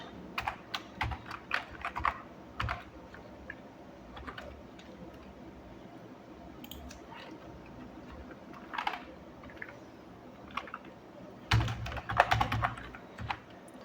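HTML code is typed on a computer keyboard in quiet bursts of soft clicking keystrokes, pausing in the middle and ending in a denser flurry.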